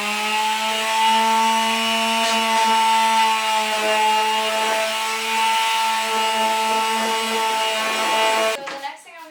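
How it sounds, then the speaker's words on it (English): A power tool works steadily along the edges of a 5mm board, a loud continuous whine with a strong hum that holds for several seconds and then cuts off abruptly near the end. "then I'm going to sand the edges to make sure that they're nice and smooth"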